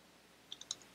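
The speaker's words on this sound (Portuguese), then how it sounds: "A gente vai digitar então ./install.sh" A few quick, crisp key clicks on a computer keyboard as a command is typed into a Debian Linux terminal, three short taps close together against a quiet background.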